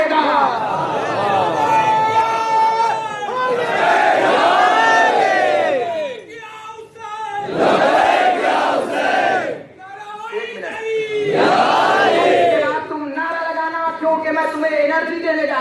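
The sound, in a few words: crowd chanting the slogan Labbaik Ya Hussain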